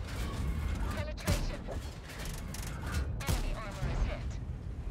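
T57 Heavy tank cannon in World of Tanks fires a quick series of sharp, booming shells over a continuous rumble of battle noise, with the shots landing a couple of seconds apart.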